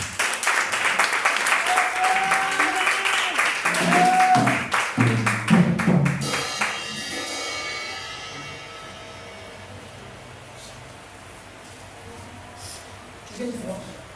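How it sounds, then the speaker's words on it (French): A church congregation at a Sunday service claps loudly with voices and cries mixed in, the applause rising for several seconds then tapering off into a quieter room tone with faint murmurs. "S'il te plaît, acclame l'esprit de Dieu ce matin"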